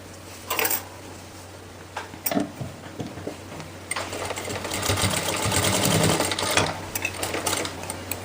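Sewing machine stitching elastic into pants, with short bursts of rapid mechanical stitching that settle into a longer steady run, close and clear.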